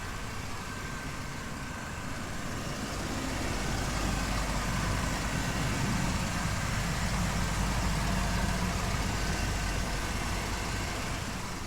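Steady low rumble of a V6 engine idling in a 1988 Chevy K1500 4x4 pickup, running on very old gas, a constant close drone with a slight swell midway and no talk.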